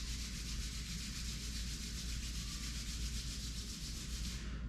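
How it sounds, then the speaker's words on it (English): Palms rub together in a steady, close, continuous brushing friction with no talking, a soft even swishing that holds for the whole stretch. "Rub your palms."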